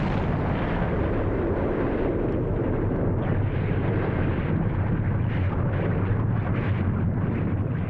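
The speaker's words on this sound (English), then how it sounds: "An explosion so powerful that it blew a 32-square-mile wide crater out of the center of the island." Deep, sustained rumbling roar of a massive volcanic eruption blast on an island, dense and continuous with low booming bursts throughout, loud and enveloping with no voices.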